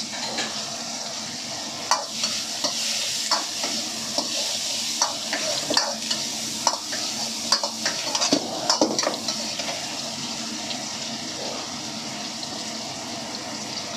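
Coriander stems, celery, garlic and ginger stir-fry in a very hot wok, a steady bright sizzle running throughout with repeated scraping and tossing clicks from the spatula, close and fairly loud.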